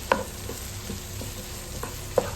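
Crushed fresh chili fries quietly in a pan while a spoon stirs it, with soft sizzling under a few light scrapes and taps.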